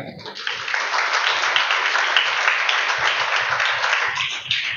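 An audience claps loudly and continuously, a dense, even wash of hand claps that holds for several seconds with only slight swells.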